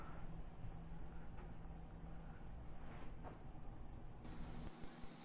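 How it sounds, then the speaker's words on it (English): Crickets chirp steadily in the background at a night campsite beside a small fire, a faint continuous high trill throughout. "I have the crickets going in the background."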